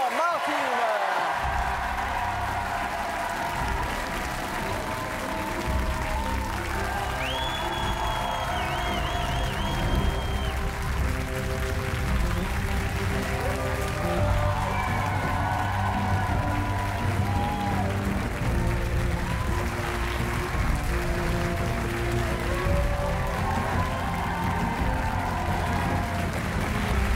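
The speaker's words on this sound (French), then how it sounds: "un tonnerre, que dis-je, un déluge d'applaudissements pour George R.R. Martin" TV studio audience greeting George R. R. Martin with sustained applause and some cheering, a thick continuous roar of clapping with music and voices running underneath for nearly half a minute.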